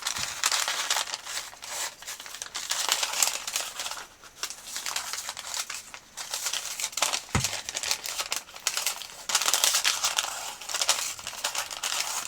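Tracing paper crinkling and rustling against a sewing pattern for a child's dress, a steady close papery crackle that runs through the whole stretch with brief dips and one sharp tap midway; no talking.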